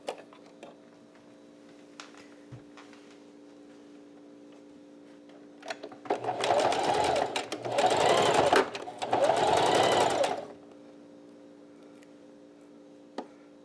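Sewing machine stitching fabric for a center-fold face mask, three steady bursts of running stitches separated by short pauses, close and moderately loud, with quiet room tone before and after.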